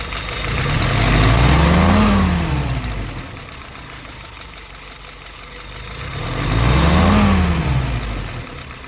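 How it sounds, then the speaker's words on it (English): A car engine revs up and falls back twice in slow swells, loud and close, with a steady rumble between the two revs. "Let's go ahead and fire it up."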